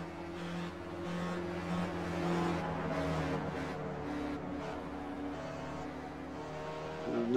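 Race cars lap a track, their engines whining at a fairly low level with steady harmonic tones that rise and fall as they pass. A brief swell comes right at the end, with no talking.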